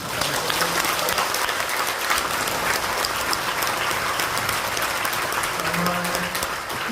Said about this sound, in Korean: 우리 박수를 한번.